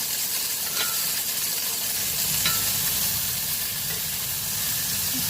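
Beef short ribs sizzling loudly in a hot pan with garlic, a dense continuous hiss of frying fat with a couple of faint utensil taps, close and steady.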